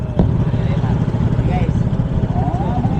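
A motorcycle engine labors up a steep road, a dense, steady low rumble holding throughout, close and loud, with muffled voices faintly mixed in.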